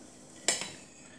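Knife slicing through a feijoa with its skin on, two quick crisp cuts close up against a cutting surface, quiet surroundings.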